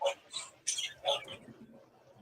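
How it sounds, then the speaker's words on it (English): Dogs bark in a few sharp, close bursts, then the barking tapers off into quieter sounds. "What are they barking at?"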